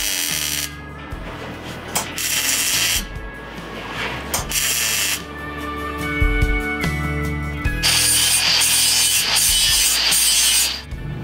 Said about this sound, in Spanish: Cuando empecé a pasar el flap acá, tenemos que tener cuidado de pasarle sobre la soldadura